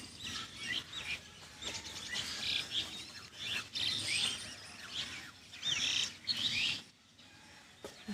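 Pigeons at a pigeon-flying tournament give soft, intermittent calls in the open air, brief chirping bursts rising and falling over about eight seconds with no talk.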